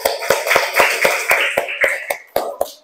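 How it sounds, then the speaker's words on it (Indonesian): A class of students claps in a steady, fast rhythm, about a dozen crisp, loud claps in under three seconds, heard close by in a school classroom. "Ayo tepuk tangan semuanya."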